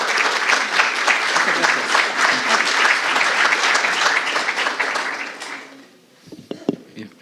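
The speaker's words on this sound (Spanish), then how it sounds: "Un aplauso para el profesor Eduardo." An audience at a university academic-year opening applauds a lecturer, loud sustained clapping for about five seconds that then fades, followed by a few faint sounds.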